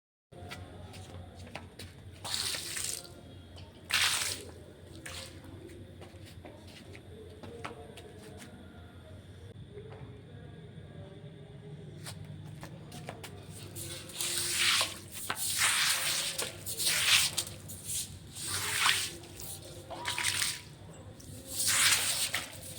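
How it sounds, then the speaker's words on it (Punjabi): Water splashes and squishes over a dirty white marble stone as it is rinsed clean, in faint bursts of liquid sloshing that grow busier toward the end. "ਹੁਣ ਇਹ ਪਾਣੀ ਦੇ ਨਾਲ ਸਾਫ਼ ਕਰ ਦਿੰਨੇ ਆ"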